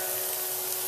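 Onions hitting olive oil in a frying pan give off a steady, loud, broadband sizzle, an even hiss held without a break through the short moment, close and alone.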